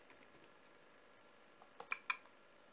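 Keys clacking on a computer keyboard as a short word is typed: a few soft scattered taps early on, then three sharp, close clicks in quick succession near the end, in a quiet room without talk.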